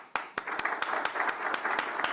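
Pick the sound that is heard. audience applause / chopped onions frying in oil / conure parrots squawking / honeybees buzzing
audience applause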